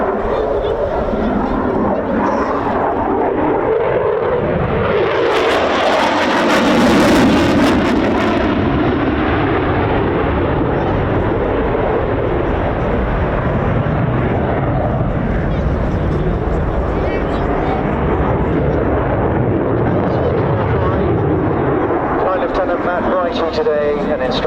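Eurofighter Typhoon jet with twin Eurojet EJ200 reheated turbofans in a flying display at RAF Coningsby, a loud sustained afterburner roar and rumble with a surging pass, while a commentator talks over it.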